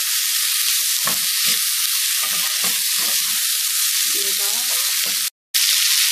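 Snake gourd and prawns for a curry sauté in a pan with a loud, continuous bright sizzle, while someone speaks softly over it in short phrases.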